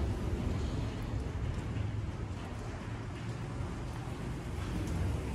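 Steady rain falls all day at a large wedding venue in Dehradun, a constant even hiss and patter with no voices.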